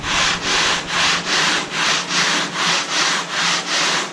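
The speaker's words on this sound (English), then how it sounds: "I got this 80 grit sanding block." An 80 grit sanding block scrubs an aluminum toolbox in steady back-and-forth strokes, about ten even, loud, close rasping passes in a regular rhythm with no talking.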